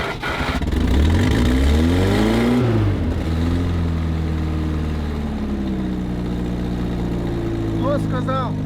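A car engine revs hard on an unpaved village road, rising and falling in pitch through strong accelerations before settling into a steadier run, loud and close.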